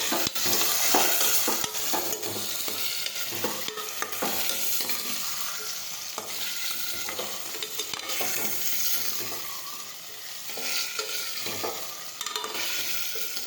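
Shelled peas sautéing in a pan with chopped potatoes, a steady sizzle broken by repeated scraping stirs of a spoon against the pan, close and fairly loud throughout with no talking.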